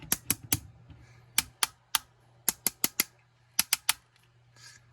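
Sharp mechanical clicks from a Transformers Earthrise Skylynx toy's ratchet joint come in quick clusters of two to four with short pauses between, close and crisp over a faint low hum.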